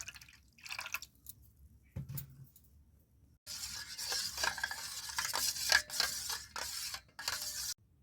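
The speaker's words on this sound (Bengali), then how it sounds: "এবার দিয়ে দেবো ফ্রিজের ঠান্ডা জল।" Cold fridge water is poured into mango sharbat, making a quiet splash and then a sustained, bright liquid gurgle with a few clinks of a spoon or glass, close up and without talk.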